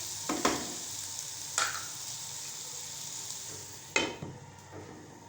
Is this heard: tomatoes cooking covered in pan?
yes